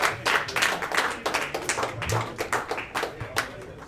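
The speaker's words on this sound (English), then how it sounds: "One final round of applause" An audience at a 2016 esports finals event claps in a round of applause, a steady patter of many hands close and lively for several seconds.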